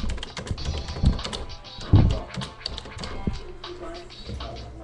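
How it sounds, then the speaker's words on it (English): A word is typed on a computer keyboard in a quick run of close, crisp key taps, with a couple of louder presses and faint background sound. "Just find the word and type it in."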